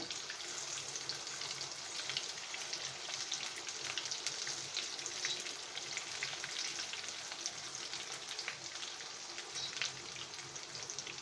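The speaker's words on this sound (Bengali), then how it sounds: "আমরা এটা এক পাশ ভাজা হলে আমরা আরেক পাশ ভেজে নেবো" Slices of spiny gourd (kakrol), prepared shahi style, fry in oil with a steady, close, crackling sizzle that runs unbroken for the whole stretch, with no voices.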